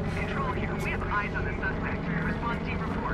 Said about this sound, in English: Oh great, helicopter spotted us.